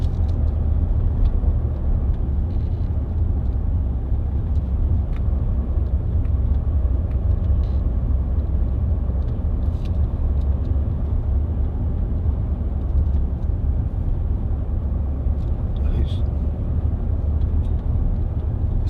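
A Range Rover 4.4 TD V8 cruising at 30 mph and about 1100 rpm gives a steady low engine and road rumble. The cabin is quiet and nobody speaks.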